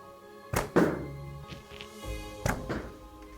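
Arrows from a low-draw-weight bow made from snow skis strike a target with sharp, dull thunks, about four hits spaced across a few seconds, close and fairly loud with no talking.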